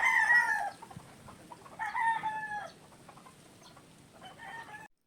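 Chickens in a pen cluck in soft, close bursts while a rooster crows in several drawn-out calls, with no talk over the birds.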